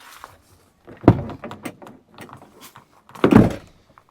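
A motorhome door held open by a hook knocks shut with two solid thunks, one at about one second and a louder one near the end, separated by quieter rattles and handling noise.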